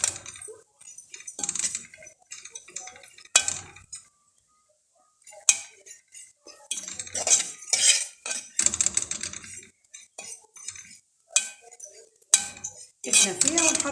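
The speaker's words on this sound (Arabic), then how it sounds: "احنا فيها ونحرك باستمرار عشان ما تلسعش معايا ولا تسمر وتغير لونها" Spoon stirring kunafa dough in a pot, with repeated metallic scrapes and clinks against the pan in uneven bursts, close and fairly loud, while someone talks in between.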